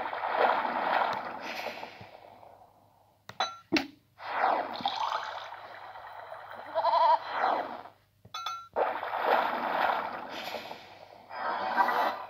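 A goat in a video game bleats repeatedly in long, wavering cries, close and fairly loud, broken up by short sharp clicks and brief gaps.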